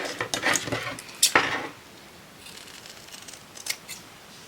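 Scissors cutting paper to size for handmade lace envelopes, a few crisp snips and rustles close by in the first second and a half, then quiet with a couple of faint later snips.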